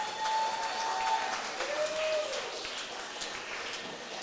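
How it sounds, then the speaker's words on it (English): Spectators at a climbing competition clap and cheer, a brisk burst of applause with whoops that is loudest at the start and then tapers to a lighter, scattered patter. "Let's have a big cheer for Asia."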